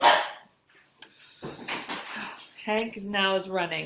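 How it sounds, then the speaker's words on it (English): Ziggy the dog gives a few sharp barks and yips outdoors, brief and fairly close, with a person talking over and between them. "You can hear him barking"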